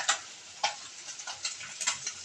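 Small mola fish frying in hot oil, a quiet, steady sizzle broken by a few sharper crackling bursts, heard close and alone.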